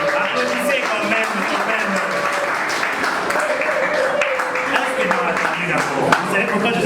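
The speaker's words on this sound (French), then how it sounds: "je vous demande d'abord applaudissez d'abord pour vous-même." An audience at a training-course event in a hall applauds steadily, the clapping sustained and fairly dense throughout, with some voices mixed in.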